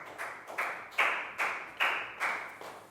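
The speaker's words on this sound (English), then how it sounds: "Big round of applause for Nadia." A small classroom group claps for a student who answered well, a few quick bursts of applause repeating at a steady rhythm, fairly close and not very loud, with no talking over it.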